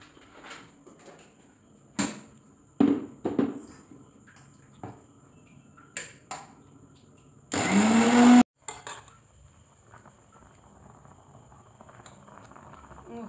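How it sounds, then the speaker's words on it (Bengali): A kitchen mixer grinder whirs loudly for about a second, grinding gram flour batter, amid scattered clatter of utensils and quiet kitchen handling. "আমি এটা পিষে নিচ্ছি মিক্সিতে।"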